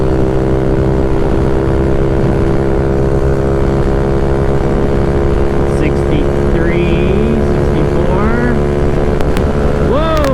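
A Honda Ruckus scooter with a 171cc GY6 engine runs fast on a freeway, its engine droning loud and constant under heavy wind rush, with a rider's voice speaking over it.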